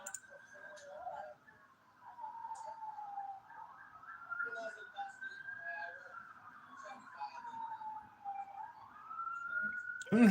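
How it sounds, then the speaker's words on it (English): A siren wails continuously, its pitch sliding slowly up and down at a moderate distance, with faint clicks and ticks scattered in the background. "We have the sirens."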